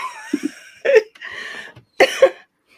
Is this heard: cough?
yes